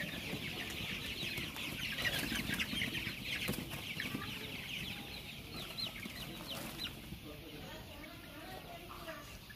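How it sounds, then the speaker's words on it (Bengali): Egg-laying hens in a fenced poultry yard cluck in a busy, overlapping chorus at moderate distance, with a voice talking faintly underneath. "অনেক চালাক মুরগিগুলো,"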